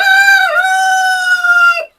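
A Brahma rooster on a rooftop farm crows once, loud and close: a sustained, strongly tonal call that holds steady for nearly two seconds and then cuts off.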